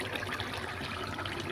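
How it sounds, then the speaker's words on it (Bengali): Rice boils in a pot with a close, steady bubbling and seething of water that runs on without a break and with no voices. "ভাতে বলক খাইছে।"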